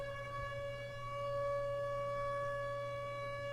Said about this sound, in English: That siren's going right now.